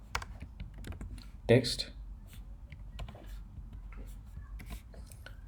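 Light, irregular keystrokes tap on a computer keyboard while code is entered, soft clicks scattered throughout with one louder burst, under a quiet voice speaking nearby.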